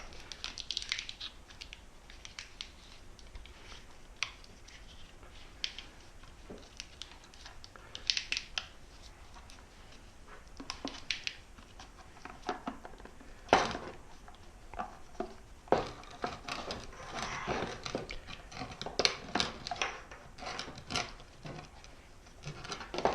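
Electrical tape being wound along split loom tubing while fixing trailer tail-light wiring, heard as a steady run of soft rubbing, crinkling and sticky peeling sounds with scattered sharper clicks, close up and without talk.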